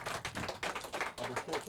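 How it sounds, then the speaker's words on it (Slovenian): A concert crowd claps for the backing band at a VIP radio anniversary show, giving short, fairly faint bursts of clapping in an irregular rhythm that sit close together over a brief stretch. "A lahko še enkrat aplavz, prosim za njih."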